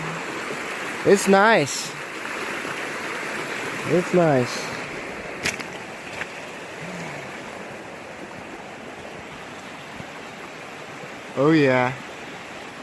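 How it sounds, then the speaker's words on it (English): Steady broadband rush of the East Fork San Gabriel River flowing unseen behind overgrown brush, a constant near wash of water running throughout while someone speaks a few brief words over it. "the river says good morning too"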